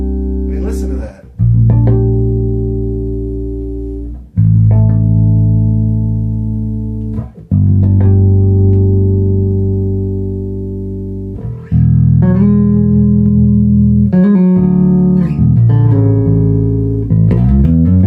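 Slap-style bass from a Grannis NGF4 hand-crafted bass guitar on its single-coil pickup: four loud, deep notes struck about every three seconds, each ringing with a long, slowly fading sustain and no talk over it.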